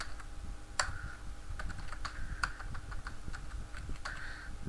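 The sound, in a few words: typing on a computer keyboard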